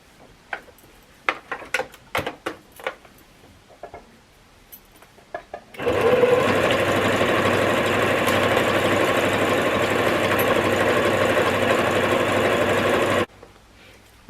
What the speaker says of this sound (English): we're going to be top stitching